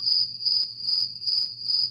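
Soundboard cricket effect: a steady, bright chirping trill pulsing in regular bursts about twice per second, loud and close with no voices.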